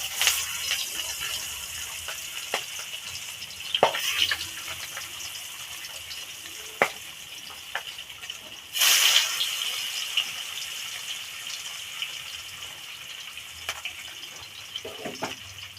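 Katla fish pieces frying in hot mustard oil: a continuous close sizzling hiss with scattered sharp crackles and pops, plus one louder burst of spitting near the middle, with no talking.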